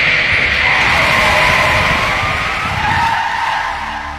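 A car on a bad road skidding as a tyre punctures, a loud sustained screeching hiss that holds for several seconds and slowly fades, with no talk over it.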